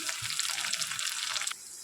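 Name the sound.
onions and tomatoes frying in a wok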